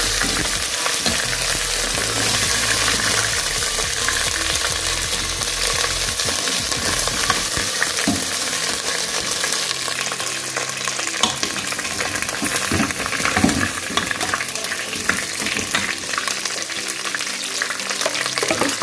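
Garlic-ginger paste sizzles and crackles steadily in hot oil in a pan while being stirred for mutton paya made with goat trotters, a loud, continuous frying hiss with occasional utensil scrapes and no talking.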